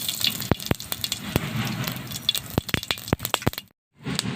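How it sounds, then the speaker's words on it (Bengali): Broken dried red chillies and cumin seeds hit hot oil in a kadai, giving a steady sizzle full of sharp, irregular crackles and pops up close, before a brief silent gap near the end. "গরম হয়ে গেছে শুকনো লঙ্কা ভেঙে জিরে দিয়ে দিচ্ছি"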